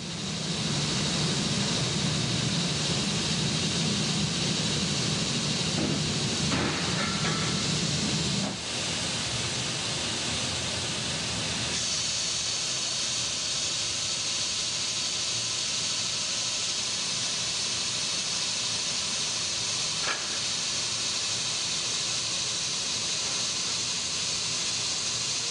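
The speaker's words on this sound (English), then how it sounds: "Sanding removes the dings and dents the tank picks up in manufacturing." An aluminium scuba diving cylinder is sanded in a factory, producing a long, loud, unbroken abrasive hiss with a few shifts in tone and faint clanks.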